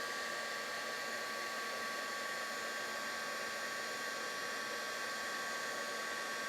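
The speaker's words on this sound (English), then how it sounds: "Bring my heat tool in." A craft heat tool blowing hot air to melt white embossing powder, a steady, close whirring hum with constant airy hiss and faint tonal whine throughout, no talk.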